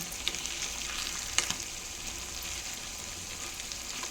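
Eggplant frying in masala in a pan: a steady sizzle with a soft clink or two as the pieces are turned, close and even throughout.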